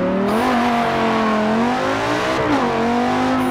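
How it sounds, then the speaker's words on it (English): Stock Lamborghini Gallardo racing engine revving hard, its loud, continuous drone climbing and dipping in pitch, with a brief lift around the shift before pulling again. "this Lamborghini racing sounds crazy."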